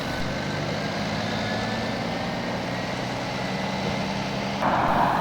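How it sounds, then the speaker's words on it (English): A 2019 Scania R410 4x2 truck pulls out of a gate towing a living wagon, its steady engine drone continuous and fairly close, with a faint beeping tone over the rumble and no talking. "A 2019 4x2 Scania R410 glides out of the gate."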